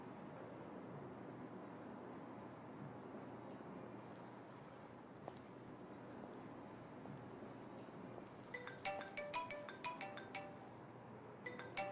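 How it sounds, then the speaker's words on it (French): A mobile phone ringtone starts ringing in an office, a repeating electronic melody of quick chiming notes rising over steady background hum near the end. "Madame Samira, encore votre téléphone?"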